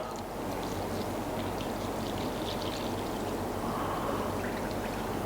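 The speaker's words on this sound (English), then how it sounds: "So let's add the water." Water pours steadily into a pizza dough mix in a mixer bowl, a continuous rushing splash that stays close and even for several seconds with no talking.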